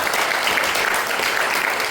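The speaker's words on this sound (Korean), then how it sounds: "하나님 앞에 우리 이 자리를 위해서 큰 영광의 박수 한번 다시 한번" Steady, dense applause from a church congregation during a summer mountain prayer meeting, continuous and fairly loud throughout with no pauses.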